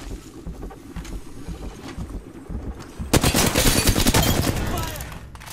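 Gunfire in the Apex Legends video game: scattered shots at first, then a dense, loud burst of rapid automatic fire that sustains over the last seconds amid other game noise.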